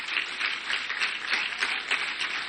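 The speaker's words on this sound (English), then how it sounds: "Could we please give them a round of applause?" An audience at a live event applauds a standing group of Ugandan guests. The continuous clapping is moderately loud and textured, with dense hand claps rolling steadily throughout and no voice over it.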